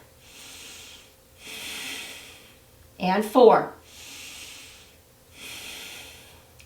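Slow, steady breathing during a yoga half moon pose: four soft, airy breath swells spaced evenly, with a brief louder snort-like sniff near the middle, close to the mic.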